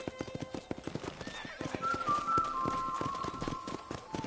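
Horse hooves clip-clop at a steady walking rhythm near a ranch corral in Red Dead Redemption, with a brief whinny and a whistled tone rising over the hoofbeats.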